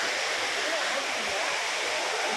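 Akaya Gangai waterfall in the Kolli Hills roars loud and close, a dense, constant rush of falling water filling the whole stretch.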